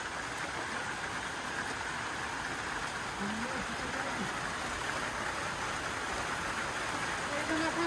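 Steady rain falls in a Black Sea mountain village, a dense, continuous hiss of drops on surfaces and running water close by, with faint voices now and then beneath it.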